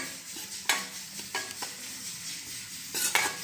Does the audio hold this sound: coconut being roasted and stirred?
yes